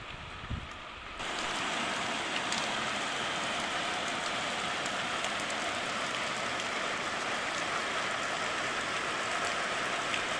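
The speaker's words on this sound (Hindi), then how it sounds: "इतने में बारिश भी शुरू हो गई" Steady heavy rain in a hill village hisses over everything after a brief quieter moment at the start, a dense, constant patter with no talking.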